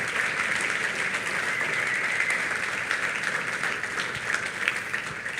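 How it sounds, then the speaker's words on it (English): An event audience gives a round of applause to standing helpers, a dense, even wash of many hands clapping at moderate distance, sustained steadily throughout with no talk over it. "Please give them a round of applause."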